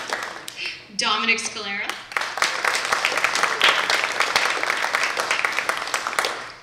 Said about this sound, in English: We can applaud for her anyway.